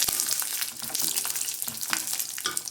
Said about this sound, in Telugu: నేను కొంచెం ఆయిల్లో ఫ్రై చేస్తున్నాను